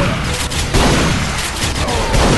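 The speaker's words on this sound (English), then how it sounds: "Shooting at me." Loud, dense gunfire erupts in Duke Nukem Forever, a sustained barrage of overlapping shots and booms at close range.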